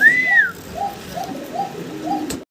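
A pair of Black Shekhar pigeons coos nearby, with a brief rising whistle at the start followed by a steady series of about five soft, evenly spaced coos, with no talking.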